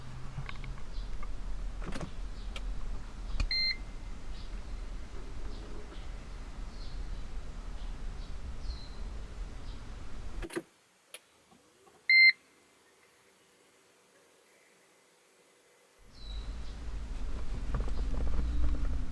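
A 2013 Toyota Prius Luxury starting from its power button gives a few short electronic beeps at start-up amid faint cabin shuffling, then near silence while the hybrid system wakes before ambient noise returns.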